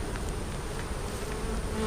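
Honey bees buzz steadily at a nuc hive, a dense, continuous drone of many wings close by, with no voices.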